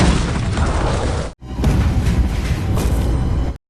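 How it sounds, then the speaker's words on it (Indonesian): Two bombs blow up aboard an airliner in a film hijacking scene: a loud, dense roar of blast and rumble, a sudden brief cutoff, then a second sustained explosive roar with debris and wind noise. "Semua penumpang pun panik, dan kedua bom itu pun meledak."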